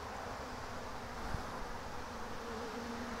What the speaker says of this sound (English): There's quite a few bees collecting up on the tree over here